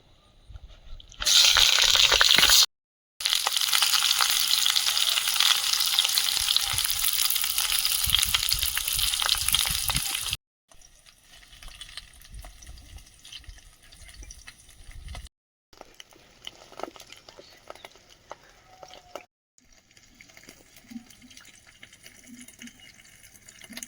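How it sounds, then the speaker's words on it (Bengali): Lote (Bombay duck) fish frying on a banana leaf in an oiled frying pan, a loud steady sizzle for several seconds that drops to quieter crackling and kitchen clatter after a brief gap. "লোটে মাছটা দিয়ে দেবো"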